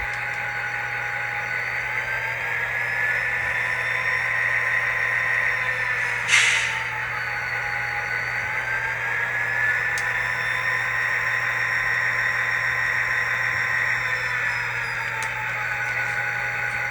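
A Kato SD90/43MAC model locomotive fitted with a Tsunami2 sound decoder runs on the track, its steady diesel engine hum and whine rising and falling, with one brief sharp hiss midway and faint clicks, no speech.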